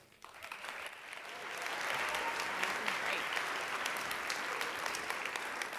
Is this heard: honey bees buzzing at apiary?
no